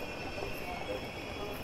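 An underground train rumbles past in a continuous dense roar with a high metallic whine, steady and close throughout the short stretch.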